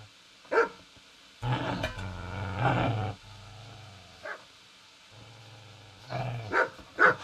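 A dog in Kingdom Come: Deliverance growls low and steady between sharp, loud barks and yips that come in short bursts, close by with quiet gaps.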